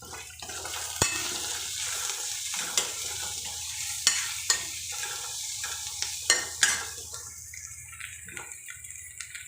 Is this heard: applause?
no